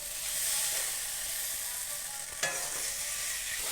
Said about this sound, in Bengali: কারণ দেশি মুরগার মাংস তো ভাজি এখন ভালো করে নিলে ভালো হবে